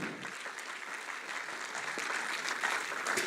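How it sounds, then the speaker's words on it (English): Sustained audience applause at a church ceremony for a Malaysian carnival event, dense and steady clapping from a crowd that grows slightly louder toward the end, with no talking over it. "Can we give her one more round of applause,"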